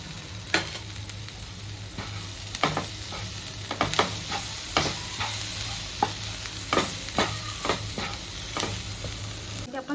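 Cauliflower fries in a pan with steady sizzling while a utensil stirs it in repeated scraping strokes, close and moderately loud, with no talking.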